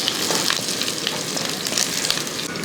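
Curry leaves sizzle loudly and steadily in hot oil while tempering for an egg curry, a dense continuous frying hiss close up with no talking.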